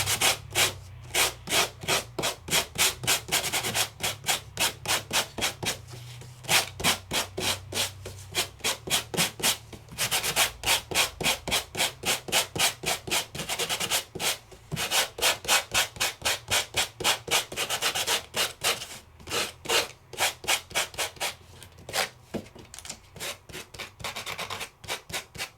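Sandpaper rubbed briskly over embossed brown card, a close, steady run of rapid back-and-forth scratching strokes with only brief pauses.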